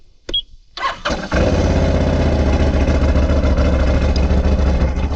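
A vehicle engine cranks after a couple of brief clicks and knocks, catches, and settles into a loud, steady, close-up idle that rumbles on without pause.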